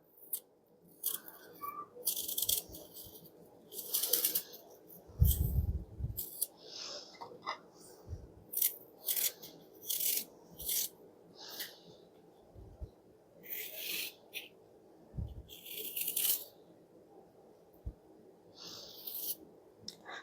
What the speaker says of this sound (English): just peel it. I find it easier to peel after I have cored them.